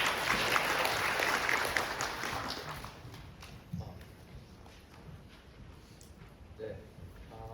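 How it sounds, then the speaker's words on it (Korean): Audience applause greets a keynote speaker at an AI automation conference, a dense, loud burst of clapping that fades to scattered claps and ambient room noise. "김기회관 대표님 큰 박수로 맞아주시기 바랍니다."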